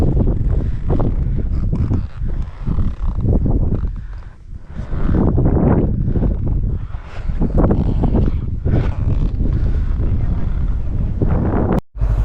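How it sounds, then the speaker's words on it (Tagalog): Strong wind on open rolling hills buffets the microphone in loud, roaring gusts, with a few brief lulls between heavy blasts. "Bilang lumakas yung hangin"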